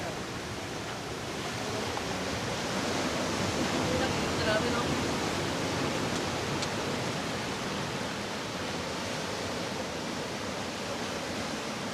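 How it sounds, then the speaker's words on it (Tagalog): Tall waves breaking and washing at a rocky beach in Casiguran, Aurora, a steady loud roar of surf holding evenly throughout. "Taas ng alon."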